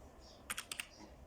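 Four quick, light keystrokes on a computer keyboard click in a tight cluster, faint against a quiet room with no talking.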